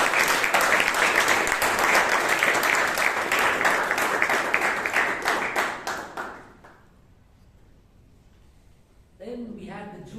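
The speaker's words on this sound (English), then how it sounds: "a round of applause" Audience applause at a Toastmasters club meeting in Bangalore, a dense burst of many hands clapping that fades out after about six seconds, followed by a short stretch of quiet and then a voice beginning to speak.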